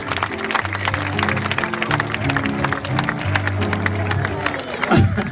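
Audience at a live Sicilian cabaret show in Cinisi clapping steadily for several seconds, with sustained musical tones beneath the applause.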